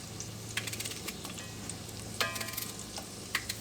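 Onion and cabbage fry quietly in a pan with a soft, steady sizzle, broken by a few light scrapes and clicks of a utensil stirring the vegetables.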